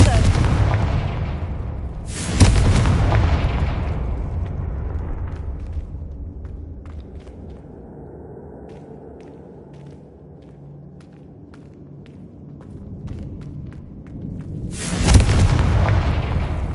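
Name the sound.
Confringo explosive spell blasts in a Harry Potter video game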